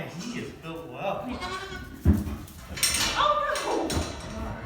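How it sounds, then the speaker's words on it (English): A goat at home gives a few wavering bleats close by, mixed with people talking and a sharp knock partway through. "It's an attack goat."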